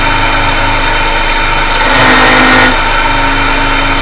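A tool and cutter grinder's abrasive wheel grinds a cutter tooth, giving a loud, steady high whine with a brief harsher swell of contact partway through, with no voices.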